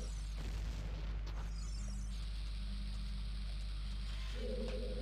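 A bomb goes off in the Ocarina of Time video game, with a deep booming burst near the start followed by a low, steady rumble and faint game tones.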